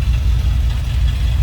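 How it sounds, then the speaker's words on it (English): A 1976 Ford F100 pickup's 390 V8 runs at idle, a close, steady deep rumble with a pulsing low throb and no talking. "nice, healthy, deep rumble coming out of that 390 V8 underneath the hood"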